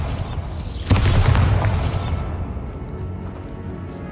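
A Bombarda blasting spell in Hogwarts Legacy goes off with a sudden heavy boom and a whooshing burst, then the rumble trails off into a low lingering tail.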